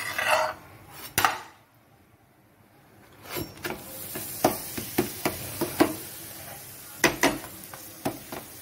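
A rice flour roti cooked with ghee is flipped on a pan, with a metal clatter and scrape early on, then a run of light taps and scrapes over a soft sizzle.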